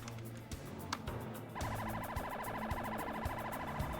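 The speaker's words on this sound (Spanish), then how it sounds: "Una patrulla de la policía y una ambulancia acuden a la escena." Police and ambulance sirens wail together, a rapid warbling tone kicking in partway through over a rumbling engine and background noise, fairly close and steady.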